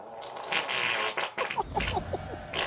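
A fart sounds as a ragged, sputtering buzz of short pulses lasting a couple of seconds, moderately close amid background voices.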